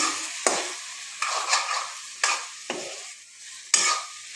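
Chicken frying in a pan and being stirred, with a hiss of sizzle and five or so distinct scraping strokes of the spatula spaced about a second apart, close and clear, no voices.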